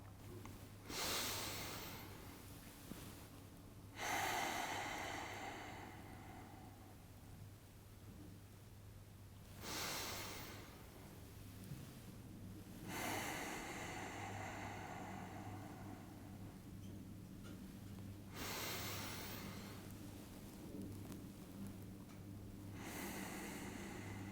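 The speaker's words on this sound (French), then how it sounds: "j'ai pris mes 3 respirations conscientes" Three slow, deliberate breaths taken after drinking a glass of water, each a long audible inhale and exhale spaced several seconds apart, close and alone over a low steady hum.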